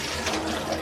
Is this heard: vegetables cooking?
no